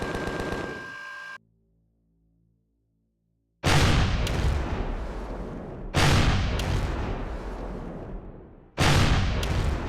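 Weapons fire at a ship in Empyrion: Galactic Survival, heavy blasts in three loud bursts each fading into a rumble, after a short ringing tone and a near-silent pause.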